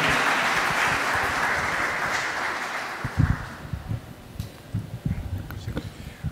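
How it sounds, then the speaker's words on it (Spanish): Audience applause at a political forum on narco-populism in Latin America, a broad sustained clapping wash that fades after a few seconds, leaving scattered claps and murmurs as a speaker takes the stage. "Un gran aplauso para él."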